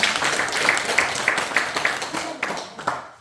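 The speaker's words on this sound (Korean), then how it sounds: "박수 한번 치고 말씀드리겠습니다" Audience clapping at a Won Buddhist training gathering, a short burst of hand claps from a seated group in a hall, with voices mixed in.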